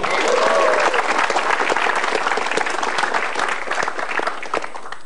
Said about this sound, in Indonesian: tepuk tangan untuk Papao.